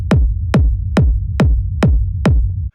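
Deep sub layer of a techno rumble kick, six evenly spaced booming hits about half a second apart, each with a sharp click falling into a low tail over a constant low rumble, loud and alone.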